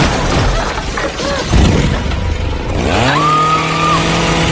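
A chainsaw in a tense film scene, heard amid crashing and shattering noise, then revving up with a rising, sustained whine that holds steady near the end.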